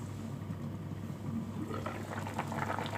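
Sinigang na bangus soup with labanos, kangkong and talong bubbling in a covered pot, a soft steady boil that grows busier toward the end.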